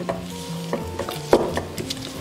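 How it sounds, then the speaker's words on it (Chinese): Roasted salted egg yolks are pressed and crushed in a small bowl, giving soft scrapes and a few sharper taps of a utensil against the bowl, close and quiet without speech. "倒在一个小碗里面，我们给它碾碎啊"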